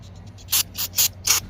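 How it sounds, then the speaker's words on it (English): An aerosol throttle body cleaner sprays in four short, hissing bursts onto a 1998 Ford F150 4.2L throttle body, close and loud, with brief pauses between them. "Spray a bit on there, guys, let it sit for a sec"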